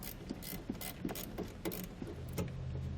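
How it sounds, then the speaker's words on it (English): An 8mm wrench ratchets out a factory body bolt at the rear of a 2017 BMW X5, giving a steady run of close, crisp clicks at a regular pace. "So I'm going to remove that bolt using a"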